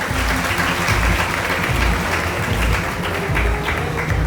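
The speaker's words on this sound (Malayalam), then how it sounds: "ഒന്ന് ക്ലാപ്പ് ചെയ്തോ." An audience at a quiz competition bursts into loud, sustained clapping for the scorers, a dense wash of many hands that carries on without a break.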